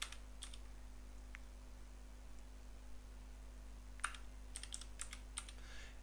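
Computer keyboard typed on in a few sparse, faint clicks and short clusters of keystrokes over a quiet electrical hum, with no talking.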